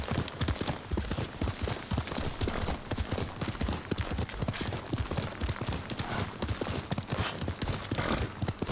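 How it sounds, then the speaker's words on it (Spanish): Horse hooves clip-clop steadily in Ghost of Tsushima, a fast, even trotting rhythm that runs the whole time and sits close and prominent over a dense game background. "Ahí está el caballo, venga."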